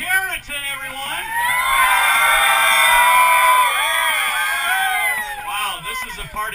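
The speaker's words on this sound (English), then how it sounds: "Wow, this is a party crowd." Graduation party crowd cheering and whooping, a loud sustained roar of many voices with yells rising and holding for several seconds before easing.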